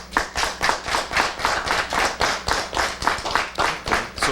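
A studio audience claps in a steady, rhythmic stream of hand claps, evenly paced and fairly close, with no talking over it.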